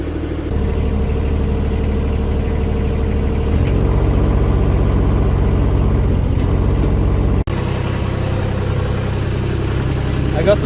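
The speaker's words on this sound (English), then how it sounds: "I'm just gonna drive this a little bit more, try to get out all of the air" An excavator fitted with a hydraulic thumb drives slowly while air is bled from its hydraulics, giving a loud, steady low engine rumble with one shift in pitch and a brief dropout near the end.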